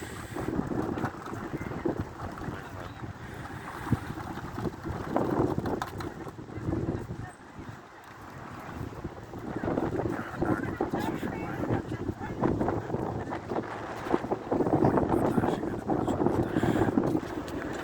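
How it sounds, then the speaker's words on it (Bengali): Strong wind gusts across the microphone at a speedboat station on a riverbank branching off the sea in Sharjah, UAE, a steady buffeting roar with rising and falling surges throughout, with a voice speaking over it. "নদীর পাড়ে, অনেক বাতাস,"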